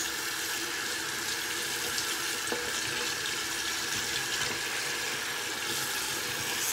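Water runs steadily from a tap while a metal part is rinsed, making a continuous, even splashing rush close by with no talking.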